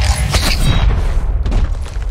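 Video game gunfire, a run of heavy booming shots and thuds, loud and close, with a mechanical creak in the middle and no talk.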